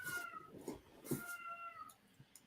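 A cat meows a few times in a hot room, short, fairly quiet calls close by with a brief pause between them and nothing else around.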